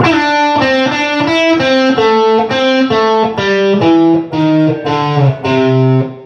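A distorted electric guitar plays a solo lick, a loud run of picked and sliding notes stepping downward in quick succession with no talking.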